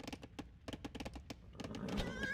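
Horses in an Age of Empires-style real-time strategy game: a quick run of clip-clop hoof thuds and short whinnies, moderately loud, with dense game effects swelling toward the end.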